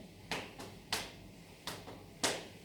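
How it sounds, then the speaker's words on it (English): Hands clapping in a loose rhythm during a playful therapeutic yoga session: four sharp, moderately soft claps with uneven spacing and a few faint taps between them, heard close against quiet room tone. "And as you're clapping and finding this rhythm"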